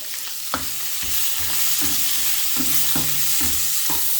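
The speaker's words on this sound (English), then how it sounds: "I fry my vegetable with garlic" Vegetables stir-frying with garlic and onion in a hot pan, a steady loud sizzle broken by several rhythmic stirring scrapes and clatters, close up with no talking.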